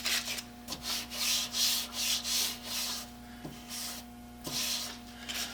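Sandpaper rubs back and forth over the wooden handle of an old two-man saw, rhythmic scratchy strokes close up with a few faint knocks.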